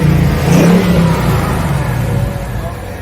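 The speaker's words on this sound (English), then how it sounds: "Nashville Super Speedway's Mach 1 Mustang pace car made a lap at Green Hill High School" A Ford Mach 1 Mustang pace car for Nashville Super Speedway accelerates at Green Hill High School, a loud engine surge that settles into a steady drone, with people talking over it.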